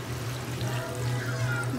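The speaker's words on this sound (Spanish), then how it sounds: "ahora le voy a poner un poquito de agua" Water is poured from a container into a pot of tomato soup in a home kitchen, making a continuous close, gentle splashing trickle with no talk over it.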